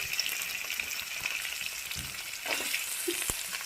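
Onions frying in a pan of oil with ginger, garlic and green chillies for a curd tadka, giving a steady, close, continuous sizzle with a few light clicks of stirring and no talking.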